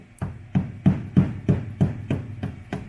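A chisel knocks Bondo filler off the driver's side rear quarter panel of a 2JZ-swapped Roadrunner in a garage, giving eight evenly spaced, sharp metallic knocks close by, about one every third of a second.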